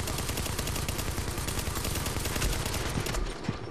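An LSW light machine gun in The Division rattles off one long, loud, unbroken automatic burst of rapid shots, close and dense, ending with a few scattered impacts.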